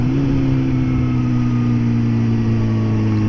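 A Suzuki GSX-S 750 motorcycle with a Power Commander 5 custom remap runs in fourth gear at about 41 mph, its engine humming steady and smooth at close range with no surging.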